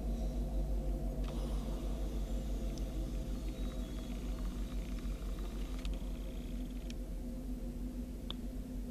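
CN SD75I diesel locomotive 5765 arriving long hood forward at West Ladysmith, a deep steady diesel rumble with low engine drone and occasional faint metallic clanks, close and continuous.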